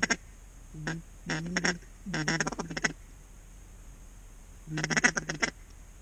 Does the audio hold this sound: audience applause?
no